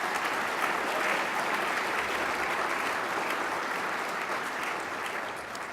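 A large gala audience gives a sustained round of applause, a dense, even roar of clapping from a crowded hall that holds steady and then begins to taper slightly toward the end.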